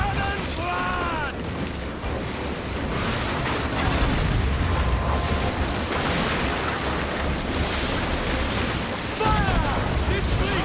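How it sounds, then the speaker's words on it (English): Ship cannons boom in a naval broadside in Assassin's Creed Black Flag, a dense, loud barrage of blasts over crashing sea and game music, with a few brief shouted voices. "Uncork the cannons, lad!"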